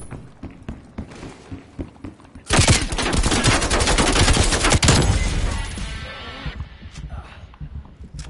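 Sentry turrets fire in a Call of Duty match: loud, sustained automatic bursts erupt suddenly and rattle on for several seconds before fading into scattered shots.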